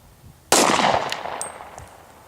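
A single loud gunshot at an outdoor forest shooting area within an old wildfire burn, a sharp crack followed by a long fading echo through the open terrain.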